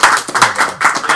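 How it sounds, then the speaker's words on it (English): A small group claps briefly in a few quick, close, uneven hand claps, a short round of applause among a handful of people. "I think that deserves a round of applause."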